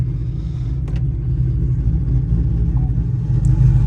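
A cammed Camaro ZL1 idles loudly and close, a deep steady rumble with a lumpy, uneven pulse and no voices.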